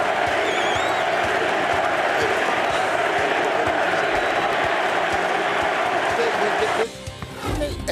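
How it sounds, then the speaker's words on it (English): A dense, roaring stadium crowd cheers steadily at an NFL game, loud and continuous, with whoops rising over the din before the noise drops abruptly near the end. "And listen to the crowd."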